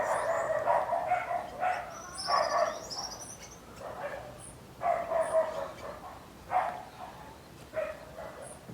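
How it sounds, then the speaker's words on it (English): Neighboring dogs bark at a distance on a Caribbean morning near a garden, with a few short bursts of barking spaced across the stretch, fairly faint, alongside some birdlike calls. "My neighbor's dogs."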